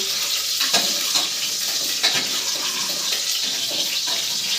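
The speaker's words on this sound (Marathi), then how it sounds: "बघा मित्रांनो कांदा लाल होत आहे" Onions frying in a pan at home make a steady, loud sizzle throughout, with occasional soft scrapes and clinks from stirring.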